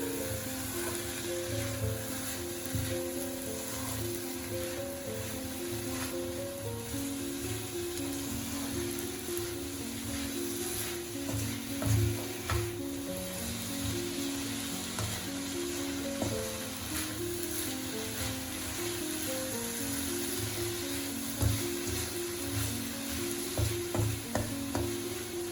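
Turmeric powder and spices fry in a pan for a prawn curry, a steady close sizzle with a spoon stirring and scraping through it in irregular knocks.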